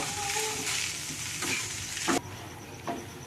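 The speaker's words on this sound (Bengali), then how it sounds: "এই যে পুরটা নাড়াচাড়া করছি" Filling for cardamom labongo sweets being stirred in a frying pan, a steady broadband sizzle with scraping strokes of the spoon at intervals, close and moderately loud, no voices.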